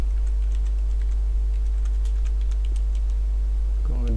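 Keys on a computer keyboard are tapped in a quick, uneven patter over a strong low mains hum while data is being entered, and a faint voice surfaces near the end.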